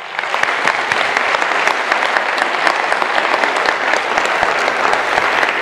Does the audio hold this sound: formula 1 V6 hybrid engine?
no